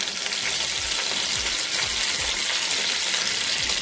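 Coriander frying in hot oil in a kadhai, a close, continuous hissing sizzle with low bubbling surges, no voices.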